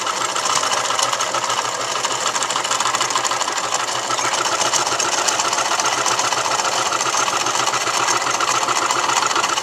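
A sewing machine stitches pants for a Tingle costume with a continuous, even mechanical whir, a fast rattle that holds steady and fairly loud throughout.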